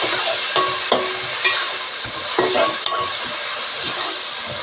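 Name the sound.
frying ginger garlic onion paste with mint for coconut milk pulao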